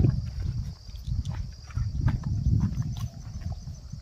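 A cow being led outdoors in a rural farm setting, its hooves thudding in an uneven, steady walking rhythm on the ground, close by with no talking.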